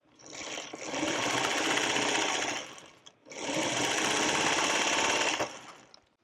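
Sewing machine stitching a quarter-inch seam across a quilt block, two loud sustained bursts of fast needle chatter separated by a short pause.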